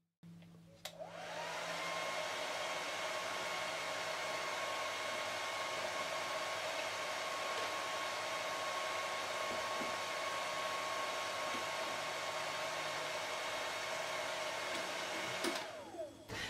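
A hair dryer blows steadily on a flat wind turbine model with a Tyvek circle and cut flaps, giving a loud, continuous whooshing hiss for about fifteen seconds that ends abruptly, with no talking.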